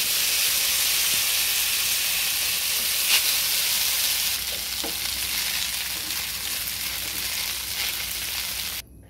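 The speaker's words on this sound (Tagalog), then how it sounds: "gentle lang po nating haluin para hindi masirang ating noodles" Beef horfun noodles tossed and stirred in a hot wok, giving a steady loud frying sizzle and hiss throughout, with faint scraping stir noises and no talk.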